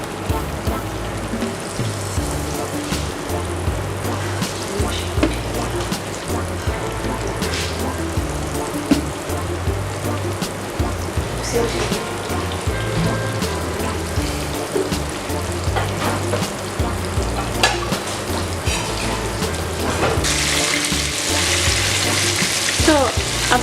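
Meatballs sizzle steadily in a hot frying pan while they are turned, with scraping and stirring clatter over continuous frying crackle at close range, growing brighter near the end.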